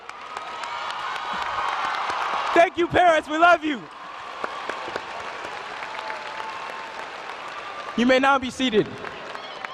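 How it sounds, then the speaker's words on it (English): A high school graduation crowd at Ben Davis in 2019 gives the parents a standing round of applause and cheers, a loud sustained roar of clapping while an announcer's amplified voice speaks over it twice. "stand up to give them a moment of applause"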